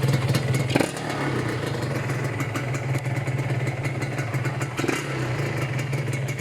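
A red and white Honda LS125 motorcycle with a 100 cc-sized engine and an open exhaust runs at a steady idle, a close, continuous putter with a faint mechanical clatter throughout.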